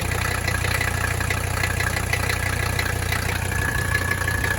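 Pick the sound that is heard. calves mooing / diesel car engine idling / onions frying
diesel car engine idling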